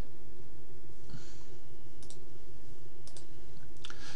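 Several sharp mouse clicks at a computer while running R code, a few isolated taps over a steady, loud background hum.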